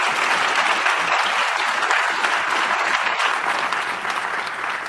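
Live show audience breaking into sustained applause, a dense, even wash of clapping from many hands that holds steady for several seconds before tapering slightly, with no talking over it.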